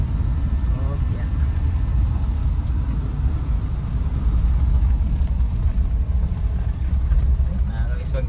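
A Suzuki DA64V minivan engine rumbles low and steady from inside the cabin while driving, a constant muffled drone with road noise and no clear changes in pace.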